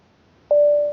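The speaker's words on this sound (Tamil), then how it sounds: "ஒரு டிங் சவுண்ட் கேட்குதா?" An Arctic Fox Jet Clip Bluetooth speaker gives a single clear, steady electronic tone as it switches on, loud and close, holding for about half a second against a quiet background.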